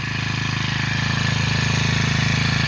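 A homemade lawn mower's small engine idles quietly with a steady, rapid putter, close by and continuous, its rhythmic thrumming unchanged throughout.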